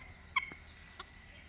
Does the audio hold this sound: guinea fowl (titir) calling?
yes